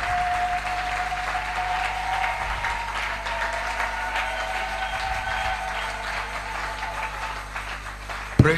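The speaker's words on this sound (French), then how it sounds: "Applaudissez pour le Seigneur." A church congregation applauds for the Lord during a French-language worship service, a steady wash of clapping from many hands filling the hall, with a faint sustained tone over it and a sharp knock at the end.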